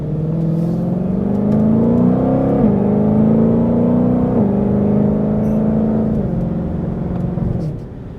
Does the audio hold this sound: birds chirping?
no